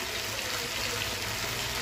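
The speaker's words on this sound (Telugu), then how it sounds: "మంట తక్కువలో పెట్టుకొని బాగా ఫ్రై చేసుకోవాలి." Pieces frying in hot oil over a low flame make a steady, dense sizzle throughout, close and even, with no voices.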